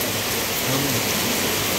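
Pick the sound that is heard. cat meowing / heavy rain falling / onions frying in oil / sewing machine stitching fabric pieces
heavy rain falling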